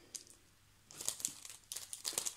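Plastic packs of scrapbooking stencils being opened up close, with soft crinkling and crackling in quick, uneven bursts after a brief quiet start.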